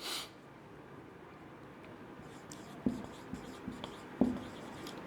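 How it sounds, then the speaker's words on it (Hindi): A teacher writes on a board while drawing a star, giving faint scratchy strokes and a few sharp taps over a quiet room hiss, with soft breathy noises in between. "स्टार बना के मैं लिख देता हूं"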